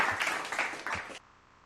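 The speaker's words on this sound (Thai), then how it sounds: "ถ้าใครเข้าใจแล้ว ปรบมือตัวเองเลยค่ะ" Primary school students in an online computing class clap for themselves, a short burst of several claps with a few distinct strikes that cuts off abruptly into quiet.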